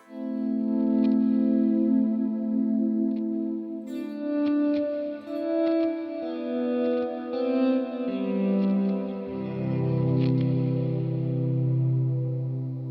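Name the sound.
FM9 effects processor, wet signal only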